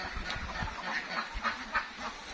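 Ducks quack in scattered bursts against a steady outdoor background, moderately close, no voices.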